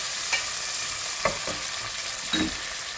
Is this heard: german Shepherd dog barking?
no